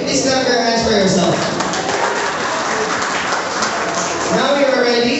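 Audience at a marketing plan seminar claps hands in a busy, sustained patter, close and fairly loud, with a voice speaking over and around the applause.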